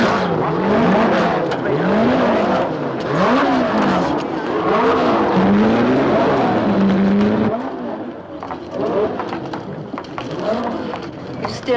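Racing cars, including a Ferrari, line up on a 1965 starting grid, their engines revving loudly in rising and falling waves before the sound drops and turns rougher near the end.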